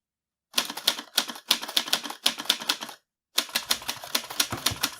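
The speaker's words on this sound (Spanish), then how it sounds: "se sentó frente a su máquina de escribir y empezó a redactar" Rapid clattering keystrokes on a typewriter, close and crisp, in two bursts separated by a short silent pause, with no voices.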